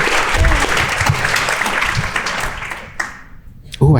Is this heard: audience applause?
yes